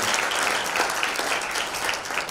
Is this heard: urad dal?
no